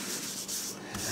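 Close rubbing of finish into the old wooden stock of a Whitney Kennedy rifle, a soft steady hiss of a cloth stroking back and forth with slight swells; no talking.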